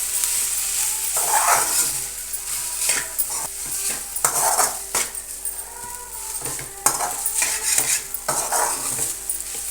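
Maggi noodles stirred in a pan with a utensil, a series of scraping, clinking strokes against the metal in uneven rhythm over a faint sizzle, close and moderately loud, with no talking.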